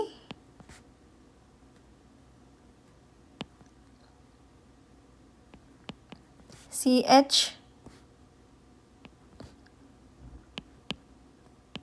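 A marker squeaks across a board for about a second as part of a chemistry formula is written, and faint scattered ticks and taps come before and after it in a quiet room.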